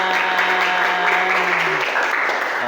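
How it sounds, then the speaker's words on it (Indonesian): Lively applause fills a classroom after a children's song, a continuous wash of clapping from a group, with a faint sustained tone running beneath. "Tepuk tangan yang meriah untuk kita."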